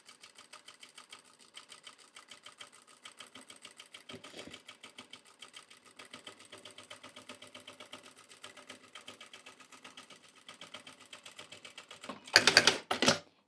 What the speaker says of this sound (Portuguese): venho costurando bem devagarzinho aqui, bem rente à divisão do meu entremeio